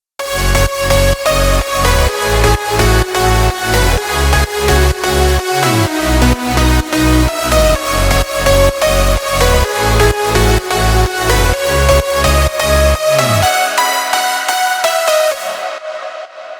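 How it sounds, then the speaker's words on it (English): A remake of an electronic dance track plays loudly with a steady pulsing beat, bright lead melody, layered chords and heavy bass, ending with a fade into a short tail. "leads, chords, bass, it sounds something like this."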